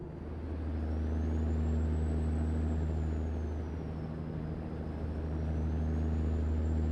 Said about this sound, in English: basically a dynamic braking